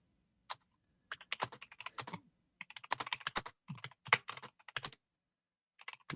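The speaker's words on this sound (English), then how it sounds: "Voco keyboard ASMR in the background" Someone types steadily on a Voco computer keyboard in the background of a stream: bursts of crisp rapid key clicks with short pauses between runs, close and moderately loud, with no talking.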